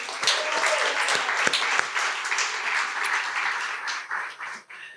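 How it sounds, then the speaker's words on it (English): Audience at Flanagan's, a live storytelling event, applauding in a dense, steady wash of many hands clapping that fades toward the end, with no talk over it. "one more round of applause for everyone at Flanagan's here."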